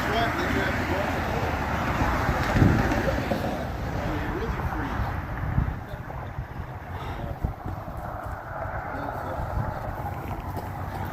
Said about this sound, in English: Wind's blowing and it is cold.